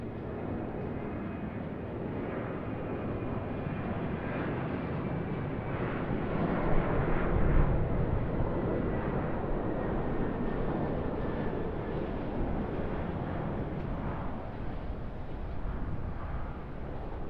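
An Air New Zealand Boeing 777 at Sydney Kingsford Smith Airport produces a steady, broad jet engine roar that swells slightly midway and holds as a continuous rumble without talk.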